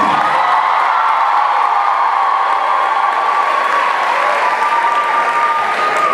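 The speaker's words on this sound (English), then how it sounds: "give another round of applause for the band" A large audience at an institute closing ceremony applauds the band, a dense, steady wash of clapping with scattered cheers and whoops that stays loud and even throughout.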